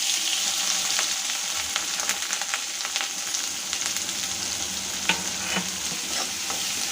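Crushed garlic and shallots fry with fenugreek in a pan for a South Indian fish curry, a constant loud sizzle overlaid with repeated stirring scrapes and small clinks, with no voices.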